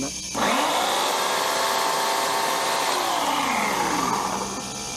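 An electric chainsaw accessory for an ElecTrak E15 garden tractor spins up quickly to a loud, steady whining drone, holds for several seconds, then winds down near the end, close by and without talk.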